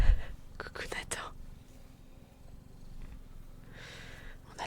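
Soft, low purring from a cat close to the mic in a quiet room, a steady rumble running under faint breathy whispering.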